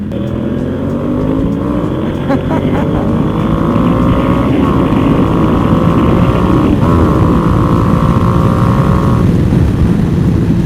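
A Yamaha R1M sport motorcycle running steadily as it is ridden, its engine droning loud and continuous with rising and falling pitch through gear changes, wind and road noise mixed in.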